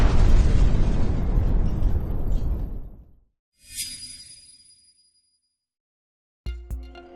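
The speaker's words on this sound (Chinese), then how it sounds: "下一秒被轰得炸裂开来，掀起的风浪直冲出诸神擂台" A massive blast from a dark cage-like special attack bursts apart in an anime battle on the gods' arena, a loud roaring rumble lasting about three seconds, followed by a shorter whooshing burst and a final sharp boom.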